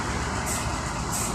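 Rosalia Indah ADD 503 executive-class coach bus running nearby, a steady loud diesel rumble with continuous broadband engine and road noise, brief hissy air-like bursts rising twice, no talk.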